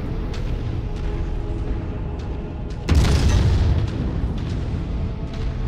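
MechWarrior 5: Mercenaries weapons fire in a modded endgame duel, heard as a heavy booming blast over a constant low rumble of the mech, with one strong burst landing midway and a few fainter thuds after it.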